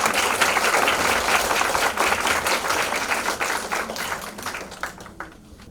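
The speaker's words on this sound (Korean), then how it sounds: "힘찬 박수로 맞이해 주시기 바랍니다." Forum audience in Osan breaks into sustained applause welcoming the mayor to the stage, a dense wash of clapping that gradually thins and fades out.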